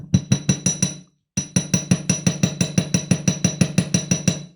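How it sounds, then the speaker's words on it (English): Rapid, rhythmic metallic hammer taps on wire against a block ring out close by, a short burst, a brief pause, then a longer steady run of evenly spaced strikes. "I'm going to start to hammer around. This will make a little bit of noise."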